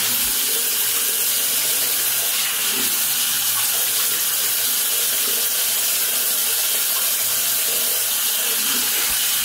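A bathroom tap runs steadily while someone rinses their face between wet-shave passes, a loud continuous broadband hiss of flowing water with faint splashes and no speech.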